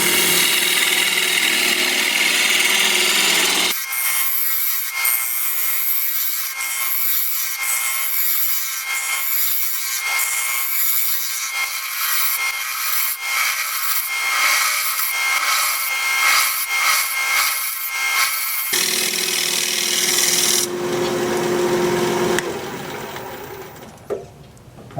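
A wood-turning gouge cuts spinning curly maple on a lathe, giving a loud, steady scraping drone with a fast rhythmic pulse. The cutting then changes tone and tapers off at the end.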